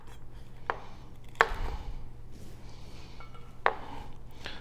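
Knife chopping celery thinly on a cutting board for soup, three sparse crisp cuts at uneven intervals, close and clear over a low background hum, with no talk.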